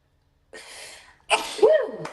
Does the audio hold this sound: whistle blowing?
no